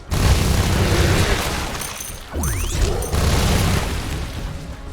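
Meteorite impact explosion in The Riftbreaker, a loud sustained booming rumble with a descending whistle-like sweep in the middle, followed by continued heavy crashing noise.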